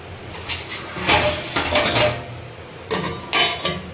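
A covered dish set down in a kitchen, giving a few close clinks and knocks of pot and lid in two short bursts with a quiet pause between.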